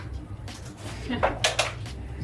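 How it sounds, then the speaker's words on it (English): A bedroom drawer is slid open and shut, with a few short scraping and knocking bursts over about two seconds, close by, amid faint rustling and a voice talking. "I'm just gonna put them in this drawer"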